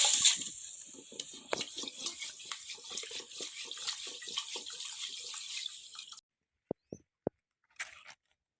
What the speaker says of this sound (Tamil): கல் இருந்தால் தண்ணியில் கொட்டி அரிசி வச்சு எடுத்துக்கலாம்.